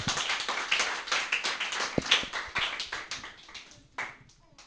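Church congregation clapping hands for the Lord, uneven rhythmic claps from many people, fairly close and moderately loud, tapering off toward the end.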